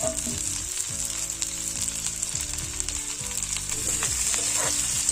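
Lolge fish chili is sautéed and roasted in a pan, giving a steady, close sizzle with occasional stirring clinks and scrapes, plus a faint tonal hum in the background.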